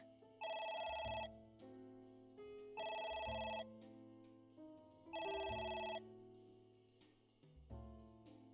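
A telephone rings three times in even bursts over a low melodic background, quiet and steady with no voices.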